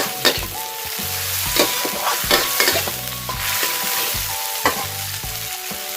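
Mama instant noodles pad thai with fresh shrimp stir-fried in a pan, giving a loud, close sizzle with rapid scraping and clattering utensil strokes and tonal metallic ringing throughout, and no voices.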